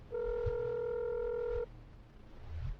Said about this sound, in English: but then John's phone rang